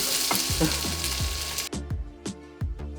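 Garlic and onions sizzle loudly in a pan as the base for a Tex-Mex chili. A dense hiss is followed by quieter sizzling broken by rhythmic stirring knocks.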